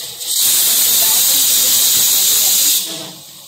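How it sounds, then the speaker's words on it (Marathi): A kitchen pressure cooker whistles with a loud, steady steam hiss that holds for a few seconds, then tapers off as the release eases, while lentils cook on the stove. "आपल्या इथे आता कुकरच्या शिट्या होत आहेत"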